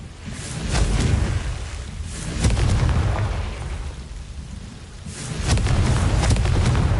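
Confringo spell blasts in Hogwarts Legacy land as repeated booming explosions, with surges about two to three seconds apart. Each swells loud and then rumbles on, with no talk over them.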